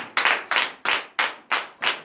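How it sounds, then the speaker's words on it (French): A church congregation at morning prayer claps in slow, even unison, six sharp, loud beats evenly spaced with a short ring after each, and no cheering voices stand out. "Veuillez vous lever sur vos pieds et donner de vives acclamations à notre Seigneur Jésus"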